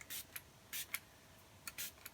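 A handheld spray bottle mists nutrients with soil conditioner onto an aquarium dry-start planting, firing about six short, crisp hissing bursts at irregular intervals in a quiet room.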